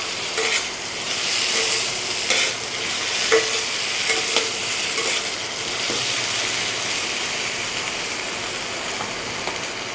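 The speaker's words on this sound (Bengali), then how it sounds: "আমি কেটে রাখা এবং ধুয়ে নেওয়া আলুগুলি একে একে এর মধ্যে দিয়ে দেব। আলুটা দিয়ে ভালোভাবে নাড়িয়ে দেব।" Chopped, washed potatoes frying in hot oil in a pan as they are stirred, a steady close sizzle with occasional scrapes and clinks of the spoon, no talking.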